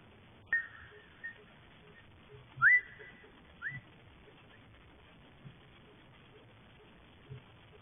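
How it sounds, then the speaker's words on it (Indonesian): A person gives a few short, sharp whistles inside a reportedly haunted sports hall in Surabaya, spaced out over near silence with scattered faint knocks and rustles. "Apa perlu bersiul?"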